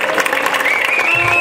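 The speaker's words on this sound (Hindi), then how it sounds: "बहुत सारी तालियां हैं।" Audience applause at an Independence Day fair held in Athens, a brief, dense wash of clapping with some crowd noise.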